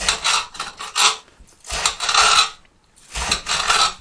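Rough scraping rasps in three long bursts separated by short pauses, broad and gritty like something dragged over a ridged washboard surface.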